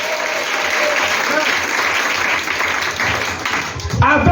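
A church congregation applauding in acclamation of God, a loud, continuous roar of clapping filling the room, with voices rising near the end.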